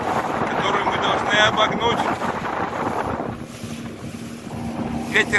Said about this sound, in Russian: Ветер шапку срывает.